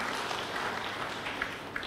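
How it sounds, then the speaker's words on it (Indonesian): A church congregation at an Indonesian Bethel fellowship service applauds in a steady wash of many hands clapping, moderately loud and continuous with no pauses. "Berikan tepuk tangan yang meriah tuh."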